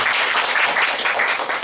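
Brief, lively applause from a church congregation, a thick burst of many hands clapping at close range, with no speech over it.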